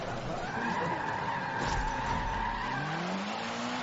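Tires squeal and skid as a race car slides in Forza Motorsport on PC, a steady loud screech layered over engine drone that rises in pitch toward the end, with no voices.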